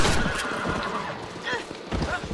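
A horse neighs in the Red Dead Redemption video game, mixed in with sharp game bursts and a busy background, while a player's voice talks over the action.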